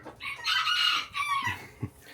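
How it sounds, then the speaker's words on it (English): A Polish rooster crows once at a petting farm, a loud, bright, drawn-out call lasting about two seconds, close by, with a couple of short clucks after. "So this is a Polish rooster."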